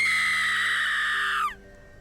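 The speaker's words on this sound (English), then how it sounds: "he hears a woman scream" A woman's high, sustained scream in a stormy night setting, loud and steady for about a second and a half before sliding down and breaking off abruptly, leaving faint background noise.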